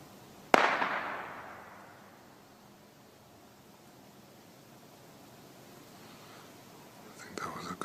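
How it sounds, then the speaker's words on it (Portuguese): A single sharp gunshot in a forest cracks once, loud and close, then fades into a long reverberating tail across quiet open space. "I think that was a gunshot."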